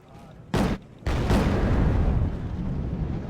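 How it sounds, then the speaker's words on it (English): Bombing runs in the war strategy game Wargame: Red Dragon: a short heavy blast, then a second, longer rumbling explosion that rolls on and slowly decays. "We just need to keep bombing them."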